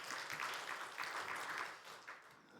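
Moderate applause from a church congregation during a Sunday service, steady clapping that thins out toward the end.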